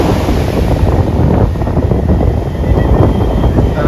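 Ocean waves break at Marina Beach in Chennai as a loud, steady surf roar, heavily buffeted by wind against the microphone.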